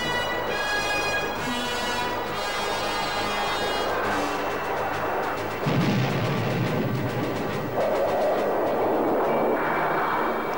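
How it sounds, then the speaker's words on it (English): Sparrow missile downing a MiG fighter over Vietnam, heard as a dense roar with rumbling blasts and crackling bursts layered over continuous aircraft-like noise. "MiG fighters were sometimes met and generally downed, as here with a Sparrow missile"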